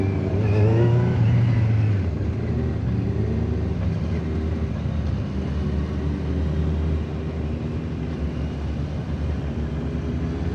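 A motorcycle engine revs loudly nearby at the start, then drones on steadily as it moves along the road, a broad rumbling roar that stays prominent throughout.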